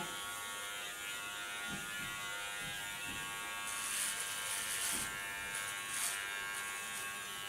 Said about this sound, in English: put on a clipper comb